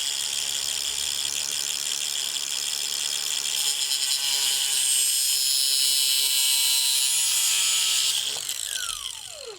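A power tool grinds steadily through a small part for a fuel tank install on a 1967-1972 Chev or GMC C10, a loud bright whine holding for about eight seconds before winding down near the end.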